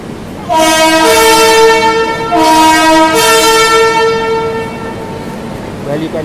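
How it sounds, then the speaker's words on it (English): A locomotive that brought in the Karnavati Express sounds its horn at a station platform, two long loud blasts of a chord-like tone, close and dominant over faint background noise. "Hear the horns."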